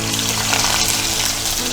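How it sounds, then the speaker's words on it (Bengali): Chopped onions sizzle in hot oil in a pan as part of a Haarjora chicken dish, a steady close frying hiss filling the whole stretch with no talk. "পেঁয়াজ কুচি পুরোটাই দিয়ে দেবো।"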